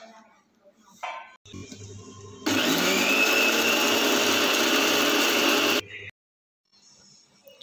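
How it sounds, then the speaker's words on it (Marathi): A mixer-grinder blends rice with half a cup of water for rice kheer, whirring loudly and evenly for about three seconds before stopping, with quieter handling noises before and after. "तांदूळ वाटून झाले की यामध्ये 1/2 वाटी पाणी टाकायचे आणि आता हे थोडंसं वाटून घ्यायचं।"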